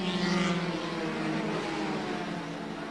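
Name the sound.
Formula 3 race cars at Silverstone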